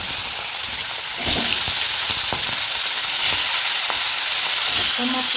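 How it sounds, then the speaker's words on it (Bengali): Salted hilsa fish pieces fry in hot oil with a loud, steady sizzle and crackle, broken by a few soft pops and clinks, close up with no voices. "আমি তেল দিয়ে নিচ্ছি, তেল গরম হয়ে গেছে। আমি এবারে মাছগুলো ভেজে নেব।"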